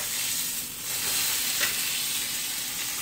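A firm salmon steak sizzles steadily on a grill, a loud continuous frying hiss with no voices over it.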